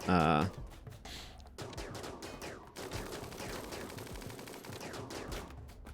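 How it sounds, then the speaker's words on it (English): Gunfire during a raid in RimWorld, scattered rapid shots and bursts popping over game music and effects, moderately loud with a sharp sound at the start. "They're just shooting at Bebor, which is fine"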